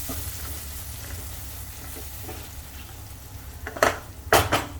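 Pureed fresh tomatoes sizzle steadily in a hot pan, with a couple of louder hissing bursts near the end, likely from stirring or spattering.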